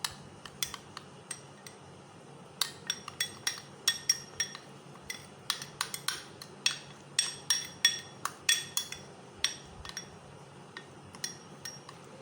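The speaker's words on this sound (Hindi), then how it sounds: "इसको आपने अच्छी तरह से मिक्स कर लेना है।" A spoon stirring yogurt face pack paste in a bowl gives quiet, irregular clinks and taps against the bowl, repeated in uneven bursts over several seconds with no talking.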